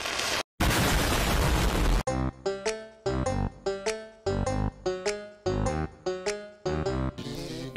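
A burst of noisy explosion-like blasts at the start in Banjo-Tooie, then a stretch of bouncy, punchy game sound effects and music in short repeated phrases.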